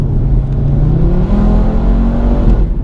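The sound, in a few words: Audi RS3 accelerating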